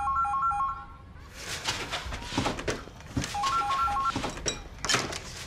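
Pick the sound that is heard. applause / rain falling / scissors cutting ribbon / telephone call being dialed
telephone call being dialed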